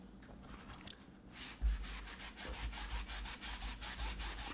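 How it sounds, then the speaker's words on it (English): Repeated rhythmic brushing strokes scrub the cushioned sole of a white shoe, a steady series of close, moderately loud scratchy rubs after a brief quieter start, with no voices. "I'm just trying to scrub the sole, the cushiony part."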